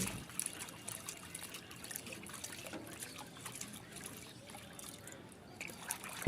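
Freshly caught rohu fish pieces are rinsed in running water, giving a faint, uneven trickle and splash close by, with soft handling noises throughout.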